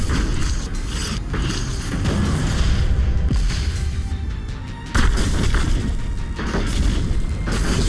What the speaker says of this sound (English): Maybe I should go for some grenades on this thing.